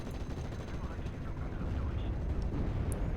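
A Ju-88 bombing run in the Steel Division: Normandy 44 war game produces a continuous, dense rumble of overlapping explosions and gunfire. The sound is steady and moderately loud, with no clear pauses.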